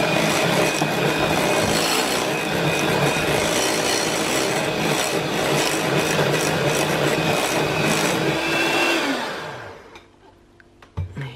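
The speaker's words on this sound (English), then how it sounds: "And one final little whisk." Keto chocolate mousse made with cream cheese is whisked in a bowl with a dense, steady scraping whir that runs loud and close, then winds down and stops near the end.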